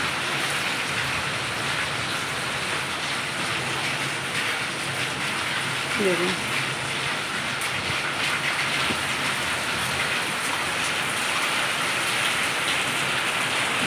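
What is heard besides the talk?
heavy rain pouring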